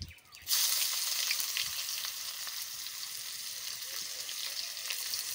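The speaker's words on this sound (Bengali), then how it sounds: "রসুন আর পেঁয়াজ ফোড়ন দিয়ে দেবো।" Garlic and onion tempering in hot oil, beginning with a sudden loud hiss as they hit the pan, then settling into a dense, continuous sizzle close by.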